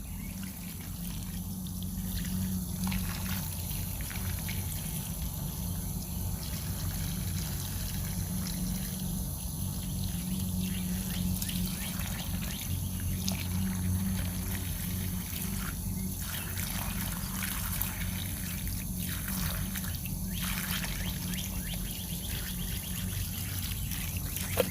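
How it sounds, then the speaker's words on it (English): Water trickling and pouring steadily into a container holding a wilted hydrangea plant, a continuous close liquid dribble with faint insect chirps in the background. "as much water as you can get inside of your container"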